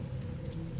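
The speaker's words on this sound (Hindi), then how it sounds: "तभी बारिश के शोर के बीच एक अजीब सी आवाज विक्रम के कानों में पड़ी।" Steady rainfall fills a short stretch of a horror story soundscape, a dense even patter with no voices.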